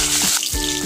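Mustard seeds, cumin and curry leaves frying in hot oil, a bright close sizzle that dips briefly then resumes, with no voices.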